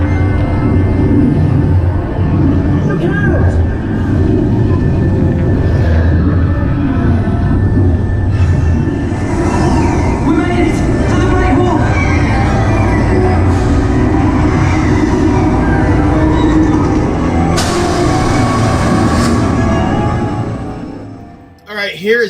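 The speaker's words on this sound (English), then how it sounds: "Here's some live action shots I took on the Harry Potter ride." Harry Potter ride at Universal Studios Hollywood, a loud, continuous rumble of the ride vehicle running on its track, with rattling, squeals, bursts of effects and voices mixed in, ending in a sudden cut.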